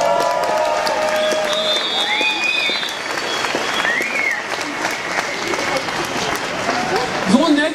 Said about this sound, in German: Gebt ihr einen großen Applaus.